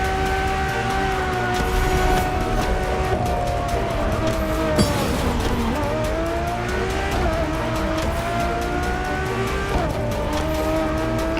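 A Ferrari Enzo supercar in the video game The Crew runs at high revs with a steady, loud engine drone, its pitch dipping and climbing through shifts, with faint tire squeal throughout.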